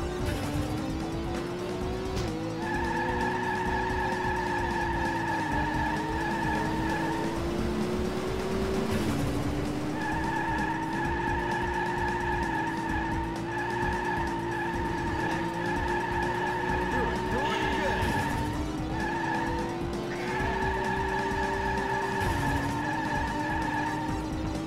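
Race cars in Sega AM2's Model 2 arcade game F1 Exhaust Note, with a steady engine whine, repeated tire-squealing skids and electronic beeping tones running continuously under arcade game sound.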